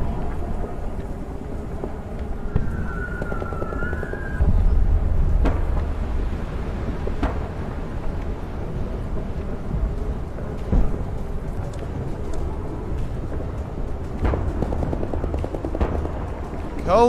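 Grenades detonate during trench combat in the game Door Kickers 2, several heavy low booms spread across the stretch amid rumbling background, with brief sharper bangs and no talk over them.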